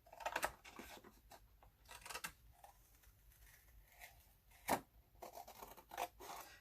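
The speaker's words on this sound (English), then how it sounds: "now I can go ahead and cut this away so it fits exactly how we want it to fit" Scissors snip away the excess cover material around a small mini notebook, quiet irregular cuts and rustles close by, with a few sharper snips among soft scraping.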